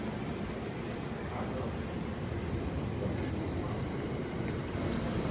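A continuous low rumbling roar of a train, steady and fairly loud, with no voices.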